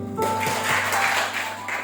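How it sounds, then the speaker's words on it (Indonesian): Dense, sustained applause from a church congregation right after a prayer, a loud wash of many hands clapping at once, with faint voices underneath. "Tepuk tangan bagi kita."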